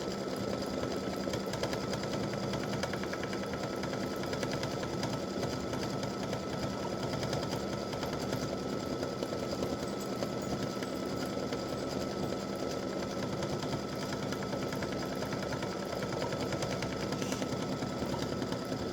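An embroidery machine stitches a hibiscus flower design in variegated thread, its rapid needle running in a steady, continuous mechanical drone close by, with no talking over it.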